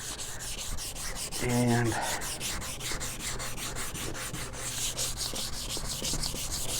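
Wet sanding of a weathered plastic car headlight, a steady rhythmic back-and-forth rubbing close up that continues throughout, with one word spoken briefly early on.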